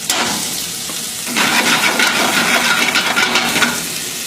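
Onions and a clove of garlic hitting hot oil in a pan, a loud continuous sizzle and crackle that jumps up sharply partway through and holds steady, with no talking.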